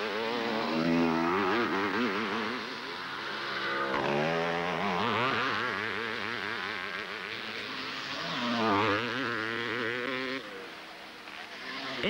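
A Honda motocross motorcycle engine revs hard through a race, its pitch climbing and falling in repeated surges, with a voice talking over it the whole time.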